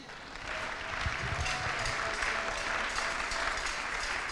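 Church congregation breaking into applause, a dense steady clapping that swells in within the first half second and carries on evenly, fairly close and without speech.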